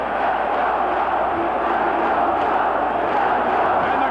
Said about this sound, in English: the crowd answering the New York fans with "Let's go Cubs."